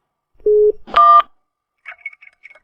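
A mobile phone is dialed: two distinct keypad tones in quick succession, followed by faint, broken call-connecting beeps that go unanswered.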